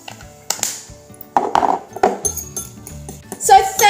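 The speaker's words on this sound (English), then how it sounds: "Then mix it again." Eggs and pepper being stirred in a bowl with a utensil, a run of close clinks and scrapes against the dish, irregular and fairly loud, with a voice heard briefly.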